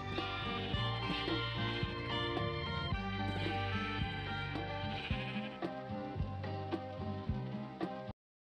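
Sheep bleating in Minecraft, several quick blocky bleats repeating over a steady backdrop of game music, close and fairly loud throughout.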